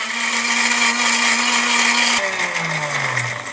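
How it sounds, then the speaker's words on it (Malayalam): A mixer grinder blends coriander leaves and mint into green chutney, its motor whining steadily and loudly, then dropping in pitch partway through as the load in the jar shifts. "മൂടി വെക്കാം, അടച്ച് വെക്കാം, നന്നായിട്ട് അങ്ങോട്ട് അടിച്ച് മിക്സ് ചെയ്തെടുക്കാം."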